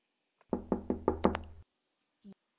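Five or six firm knocks rap on a door in the video game Façade, evenly spaced and close, followed by a brief muffled thud after a pause.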